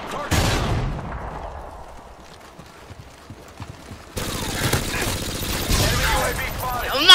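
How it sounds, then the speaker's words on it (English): Grenade blasts and bursts of rapid gunfire in Call of Duty: Modern Warfare 2 ring out in sharp clusters, the loudest at the start and again in the second half, with a voice talking over the fight. "Oh my god, the fucking grenades."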